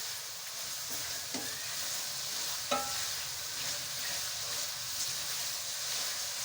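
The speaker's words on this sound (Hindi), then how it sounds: "तो हम इनको थोड़ी देर के लिए फ्राई कर लेते हैं।" Chicken jalfrezi with carrots fries in a pan, a steady broadband sizzle running throughout with a few sharp stirring clicks and scrapes, moderately close and without talk.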